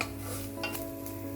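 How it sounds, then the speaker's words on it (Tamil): Grated coconut and garlic are sautéed in a kadai for mutton kurma, with a spoon scraping and stirring over a soft sizzle and a steady background hum. "சேர்த்துட்டு நல்லா வதக்கிக்கோங்க. தேங்காய் இந்த ஒரு பதத்துக்கு வர்ற வரைக்கும் நீங்கள் நல்லா வதக்கிக்கணும்."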